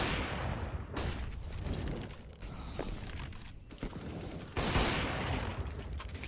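Gunfire in a competitive shooter video game: dense, crackling bursts of rapid shots and booms sound continuously at moderate loudness, with a sharper surge of fire near the end.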